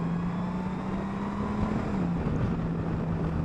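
Engine of a 2021 Honda Gold Wing DCT motorcycle under throttle, a steady low drone that holds its pitch then dips briefly as it shifts, with constant wind rush over it.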